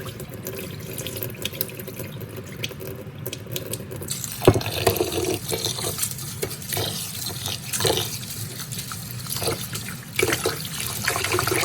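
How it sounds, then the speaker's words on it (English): Basmati rice is rinsed under running water, with a steady tap stream, swishing and sloshing as the grains are stirred, close and continuous. "This is basmati rice. A good rinse."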